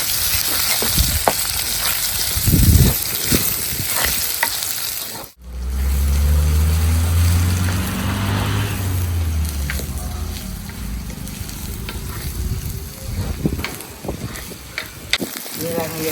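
Shallots fry in hot oil in a pan with fenugreek and fennel seeds, a steady close sizzle with bursts of stirring, and a low rumble partway through.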